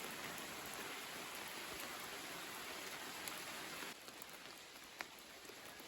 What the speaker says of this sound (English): the beautiful sound of a forest in the rain